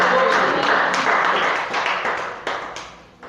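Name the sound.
church congregation applauding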